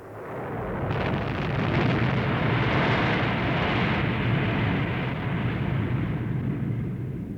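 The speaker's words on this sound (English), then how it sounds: "I believe it was a nuclear explosion from an artificially made object." A deep, sustained roaring rumble, loud and continuous with a broad rushing texture, like a distant massive blast rolling on for several seconds.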